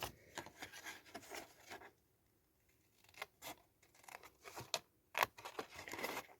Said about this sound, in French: on va venir découper le losange